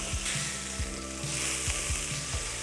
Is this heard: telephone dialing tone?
no